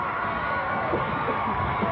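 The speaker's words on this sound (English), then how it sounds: "Of course, the crowd's going crazy." A wrestling arena crowd roaring in a dense, continuous wall of cheers and shouts, loud and unbroken throughout.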